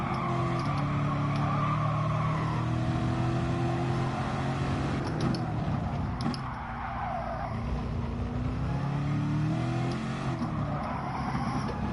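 Race car engine in Gran Turismo Sport, heard steadily revving and droning through gear changes with tyre noise, loud and continuous for the whole stretch, no voices over it.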